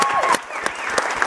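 A crowd at a youth summit panel session claps in a short burst of applause, close and fairly loud, with a tonal whistle or squeal running through it.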